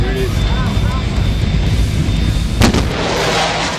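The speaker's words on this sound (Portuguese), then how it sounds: "Isso é acompanhado por um estrondo sônico característico" A loud fighter jet roar fills the air, broken by a sudden sharp sonic boom about two-thirds through as it breaks the sound barrier, then the rumble carries on.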